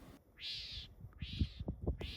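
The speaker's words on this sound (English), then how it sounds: "the birdsong" Birdsong heard on a hike through wildflowers: three long, bright whistled bird calls repeat at a steady pace, fairly close and clear, over a low rustling background.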